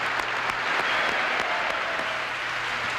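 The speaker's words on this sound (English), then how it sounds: "Really, y'all applaud so great." Audience applause fills a country music show, a dense, steady wash of clapping from a large crowd, loud and continuous throughout with no voices on top.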